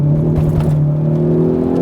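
A 2019 Hyundai Veloster N engine pulling hard under acceleration, heard from inside the car as a loud, steady drone with its pitch rising gradually, no talk over it.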